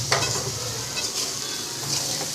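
Rice for vangi bath, mixed with vegetables and spice powder, is stirred in a pan over a gas flame. A steady close sizzle runs throughout, with soft scraping strokes and no talking.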